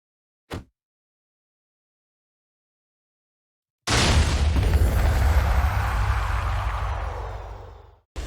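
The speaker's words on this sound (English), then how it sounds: "I'm going to use this little arrow cannon right here on him" In Minecraft, an arrow cannon fires at a wither: a short pop, a pause of silence, then a loud roaring blast that slowly fades over several seconds before cutting off.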